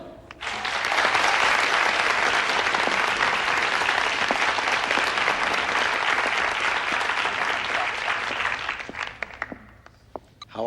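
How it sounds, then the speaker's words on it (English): An audience greets the last contestant of the evening with loud, sustained clapping that holds steady for several seconds, then thins into scattered claps before fading. "won't you please give a warm round of applause for Helen"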